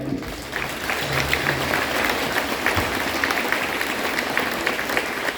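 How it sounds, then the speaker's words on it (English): An audience at a sixth-grade school band concert applauds, a dense, sustained wash of clapping from a room full of people, even in loudness throughout. "Please give him a round of applause."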